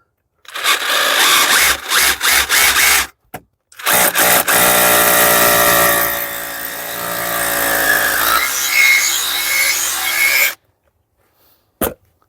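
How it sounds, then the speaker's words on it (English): A drill with a 10mm bit bores through a brick wall. A few short start-stop bursts come first, then a long continuous grinding run that ends abruptly in silence. "So we'll get this 10mm drill bit,"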